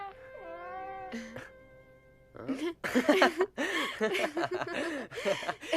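An animated-film cat lets out a drawn-out, wavering meow and a short second cry, then voices start talking quickly over the scene.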